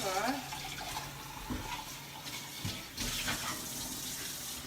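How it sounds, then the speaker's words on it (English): Tap water running into a measuring cup for tempura donut batter, a steady splashing flow heard close by throughout, with a person talking over it at times. "Now we're gonna do our water for the tempura."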